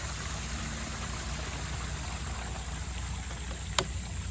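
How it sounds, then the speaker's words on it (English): A pump driving a small outdoor waterfall gives a steady, even rush of running water and motor noise throughout, with one faint click near the end and no talking. "It's just a pump that's running that waterfall."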